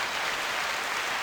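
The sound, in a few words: applause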